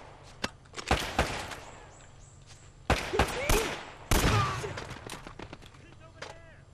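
Gunfire in Uncharted: Drake's Fortune: sharp shots crack out in scattered bursts, some close and loud, with quieter echoing gameplay noise between them.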